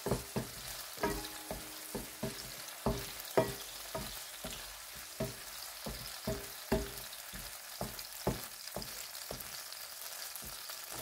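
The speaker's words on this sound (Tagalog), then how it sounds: "Halo-haloin na po muna natin." Kangkong is stirred in a frying pan, with a steady sizzle underneath and a series of sharp utensil scrapes and taps against the pan at an irregular rhythm.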